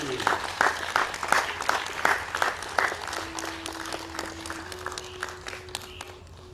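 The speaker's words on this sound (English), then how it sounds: "So let's give a big round of applause for Sifu Richard." An audience gives a round of applause at a World Tai Chi and Qigong Day event in Bradenton, Florida: brisk clapping that starts strong and gradually thins out, with a steady faint tone underneath in the latter half.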